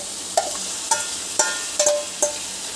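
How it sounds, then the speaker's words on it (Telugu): Marinated chicken fries in chilli oil for a bachelor-style chicken curry, a steady close hiss of frying with several sharp metallic utensil clicks spread across it. "ఈ మిర్చి ఆయిల్లో ఇలా ఫ్రై అవ్వగానే మనము చికెన్ వేసుకోవాలి"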